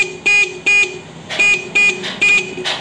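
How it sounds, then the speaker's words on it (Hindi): A repaired motorcycle horn blasts five short times in an uneven rhythm, loud and close, with a bright buzzing tone and no talking. "आप लोगों ने सुना ये हॉर्न हमने रिपेयर किया है"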